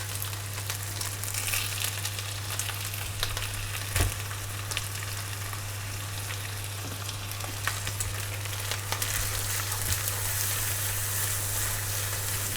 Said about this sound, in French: Vous voyez, vous entendez, il faut que ça grille un petit peu.